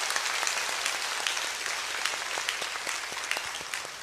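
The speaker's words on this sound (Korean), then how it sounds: "우리 아이들을 격려하는 마음으로 큰 박수로 우리 환영합니다" A church congregation applauds to welcome young children at a special Thanksgiving early-morning prayer service, steady broadband clapping of moderate loudness with scattered sharper individual claps standing out, no voices over it.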